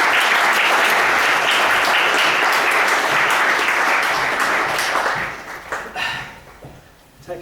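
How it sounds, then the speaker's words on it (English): Audience clapping in a room at a hypnotherapy event, a dense loud burst of applause that holds steady for about five seconds, then thins out into scattered claps and fades. "Give this lady a round of applause"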